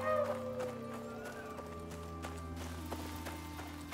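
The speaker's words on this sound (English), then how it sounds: "Oh, mower. That's the noise the mower make," Creature calls from a mower, an animal in the survival game Icarus, heard as soft rhythmic clopping and neigh-like tones riding over a sustained low game drone, moderately near.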